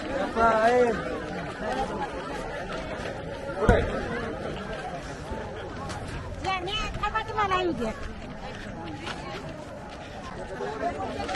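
Dense hubbub of a crowd of pilgrims at the Kavad procession in Shikhar Shingnapur, with overlapping chatter and one sharp thump near the start, while a voice talks over it.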